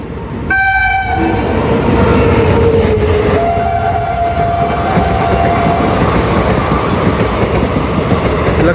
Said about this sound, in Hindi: ये 4थी ट्रेन है, और ये तो पूरे रफ्तार में है भाई